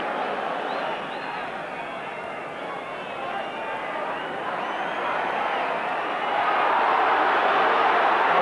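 Football crowd at a 1984 Milk Cup match between Tottenham and Sunderland, a dense stadium roar that holds steady and then swells louder toward the end, with a commentator's voice running over it.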